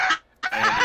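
A Minecraft chicken clucks in two quick bursts separated by a brief pause, close and fairly loud with no talking.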